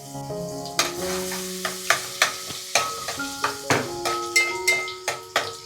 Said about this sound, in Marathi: तेल गरम झाल्यावरती ठेचलेला लसूण टाकले